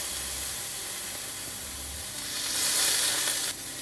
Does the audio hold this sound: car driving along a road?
no